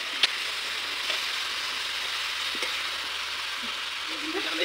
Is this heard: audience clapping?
no